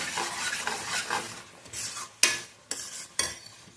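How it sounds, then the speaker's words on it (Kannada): Huli soppu gojju is stirred in a cooking pot, giving soft wet scraping swishes and sharp metal clinks of the spoon against the pot, close up with no voices. "ಈಗ ಒಂದು ಮಿಕ್ಸ್ ಮಾಡಿಬಿಟ್ಟು ಟೇಸ್ಟ್ ನೋಡ್ಕೊಳ್ಳಿ."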